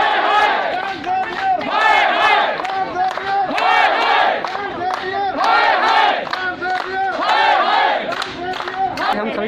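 Parents protest over school fees outside St. Xavier's School in Sector 44, a loud crowd of many voices shouting and chanting together in rhythmic bursts, continuous and close.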